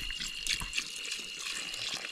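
Water poured into a cooking pot of chicken at an outdoor village cookout in Konkan, a short soft splashing trickle, close and faint.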